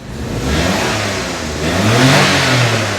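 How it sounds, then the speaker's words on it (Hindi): A Suzuki Cultus converted to a 660cc engine with an automatic gearbox starts and revs ahead of a test drive. The nearby engine hums steadily at idle, then rises into a louder rev near the end. "तो ये हो गई है गाड़ी स्टार्ट।"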